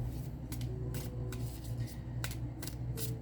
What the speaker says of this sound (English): While I'm sitting here shuffling